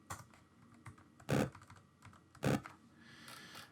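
Someone types on a computer keyboard while composing GameBoy music, with scattered light key clicks and two heavier, louder keystrokes standing out, close and without talk.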